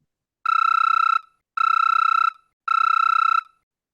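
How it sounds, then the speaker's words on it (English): Three evenly spaced bursts of an electronic telephone ringtone, each lasting under a second and separated by short silences, clear and close with nothing else around them. "Jax, your phone starts going off."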